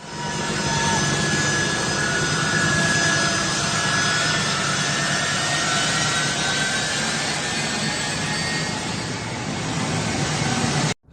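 Loud, sustained roar of an American military jet aircraft's engines at Kabul airport, a steady dense wash of engine noise filling the whole stretch, close and unbroken, cutting off abruptly at the end.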